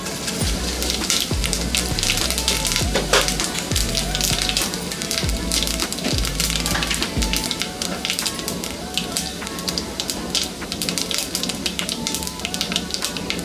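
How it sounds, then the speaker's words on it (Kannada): Whole cardamom, cloves, a cinnamon stick and fennel seeds fry in hot oil for a lima bean pulao, giving a close, steady crackling sizzle that runs without a break under low background tones. "ಇದೆಲ್ಲ ಹಾಕೊಂಡು ಎಣ್ಣೆಯಲ್ಲಿ ಫ್ರೈ ಆದಮೇಲೆ"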